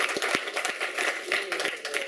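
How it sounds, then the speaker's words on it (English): A scattered round of applause from people at an MMA press conference, a few distinct claps over a wash of clapping, with voices talking underneath. "Give Andy a round of applause again."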